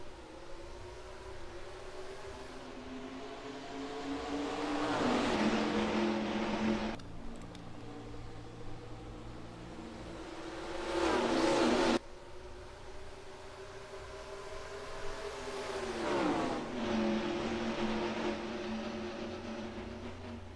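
Race cars roar around Rockingham in NASCAR Racing 2003, engine tones rising and falling in several passing swells as the field comes down the front stretch, moderately loud and steady with no talk.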